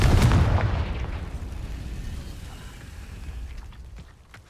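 A Confringo fire spell from Hogwarts Legacy bursts in a loud, close explosive boom at the start, its rumbling blast decaying steadily over several seconds with faint crackles trailing off.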